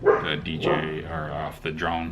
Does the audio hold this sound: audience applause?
no